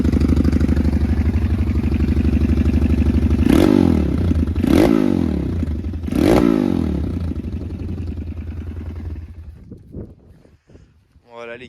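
Dirt bike engine running steadily with a loud rough idle, blipped three times into short revs before settling and cutting out near the end.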